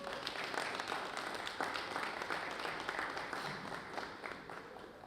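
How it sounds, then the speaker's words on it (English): Audience at a business panel event applauding the panelists, a dense, steady round of clapping that holds for several seconds before tapering slightly. "Can we have a round of applause for our panelists?"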